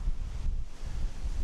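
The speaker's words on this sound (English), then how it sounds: "Wow, it's really windy right here." Gusty wind blowing outdoors buffets the microphone with a steady low rumble and roar, loud and continuous with no talking.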